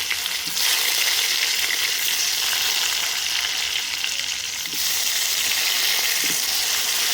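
Tomatoes and bay leaf fry in hot oil in a pan over a coal stove, giving a loud, steady close sizzle with brief surges as food is stirred, no voices.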